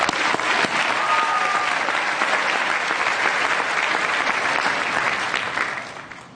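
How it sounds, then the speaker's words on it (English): Dense, steady applause from a large commencement audience at King School's 2017 graduation, loud and continuous for several seconds before tapering off slightly at the end. "Again, a round of applause."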